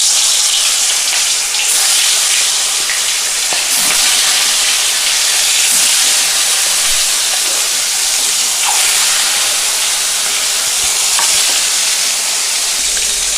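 Shankar fish pieces fry in smoking-hot oil with a steady, loud sizzle and crackle, a continuous dense hiss lasting throughout with occasional sharper pops.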